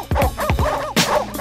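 Several dogs bark and yip close by in quick overlapping bursts, with short gaps between them and a slight whine in some of the calls.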